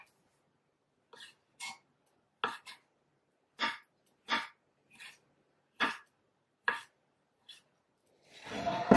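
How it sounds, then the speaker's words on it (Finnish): A knife slices peaches on a cutting board in about ten separate, soft, close thuds spaced irregularly, with a louder rustling noise at the very end. "Eli viipaloi persikat."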